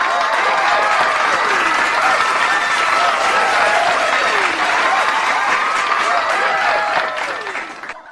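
Loud, sustained applause from a large crowd, dense and steady for several seconds before tapering off at the end, with a voice faintly mixed underneath.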